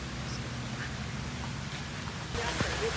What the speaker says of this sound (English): It just started downpouring just 1 second ago.